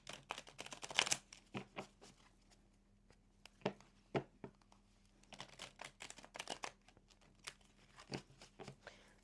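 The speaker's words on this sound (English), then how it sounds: "we'll give these cards a shuffle" Tarot cards riffle and snap in quick irregular bursts of crisp papery clicks, close and quiet, with short pauses between shuffles.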